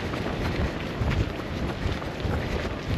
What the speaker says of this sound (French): Il y a du vent, ça souffle fort.